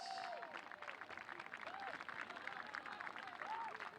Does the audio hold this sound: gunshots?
no